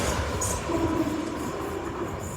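A pair of Class 450 electric multiple units rumbling past close by at Wimbledon station, steady wheel noise on the rails with a faint motor whine and brief squeal.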